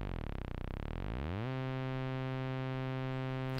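An Arturia EMS Synthi V synthesizer tone sweeps once through its modulation, sliding in pitch, then settles into a steady, buzzy sustained note that holds alone to the end.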